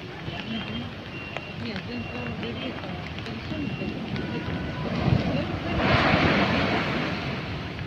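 Rough sea at Nha Trang before a storm, with waves surging and crashing in a continuous roar under heavy wind buffeting the microphone, swelling louder toward the end.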